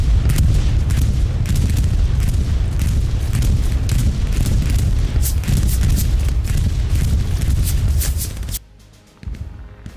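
Heavy bombing explosions in the World War II shooter Hell Let Loose boom continuously and loudly, overlapping rumbles with sharper blasts, before cutting off abruptly near the end into near quiet.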